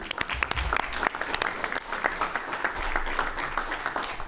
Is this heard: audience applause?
yes